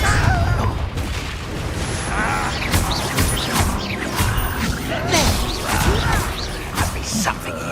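Confringo spell explosions crackle and boom through a Hogwarts Legacy battle, dense overlapping impacts, whooshes and mechanical clatter filling the mix at close, loud range, with occasional voices from the fight.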